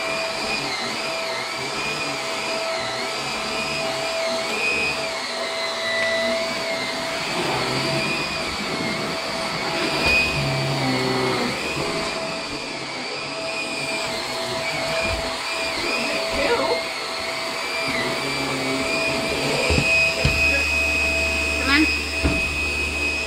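A Vax vacuum cleaner, its brush switched off, runs steadily close by as it sucks up crumbs, a continuous whining drone with shifting pitch and occasional rattles as debris is drawn in.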